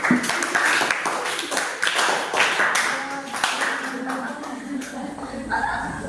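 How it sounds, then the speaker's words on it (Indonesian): Students in a classroom clap together after the teacher prompts them, a burst of dense, close hand claps with chatter and voices mixed in throughout. "tepuk dulu untuk kita semua"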